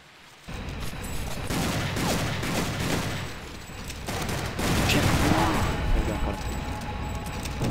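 Rapid gunfire bursts from the Soldat 2D shooter game, dense crackling volleys over a steady background, with a brief quiet gap before the shooting starts and grows louder later.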